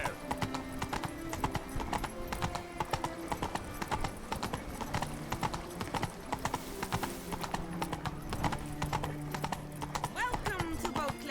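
Roach, the horse from The Witcher, trots in a quick, even clip-clop of hooves close by, with a bright musical score and snatches of voices running underneath.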